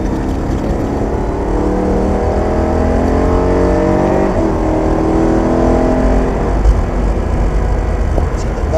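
A BMW race car accelerates hard on a track, its loud, close engine note climbing in pitch through repeated rising sweeps with no break in the noise.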